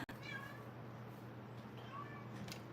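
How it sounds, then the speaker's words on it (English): A house cat meows indoors: a few faint, drawn-out, wavering calls spread over a few seconds above a steady background hum, with no talking. "I'm not sure what she's meowing at right now."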